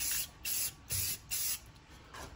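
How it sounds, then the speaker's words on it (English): Several quick bursts of clear matte enamel sprayed from an aerosol can, each a short hiss with brief pauses between, close and fairly loud, no voices. "taking clear matte enamel and just gonna give quick spray to"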